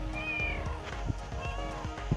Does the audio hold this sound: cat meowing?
yes